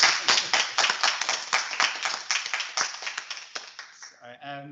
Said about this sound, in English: So we had a round of applause.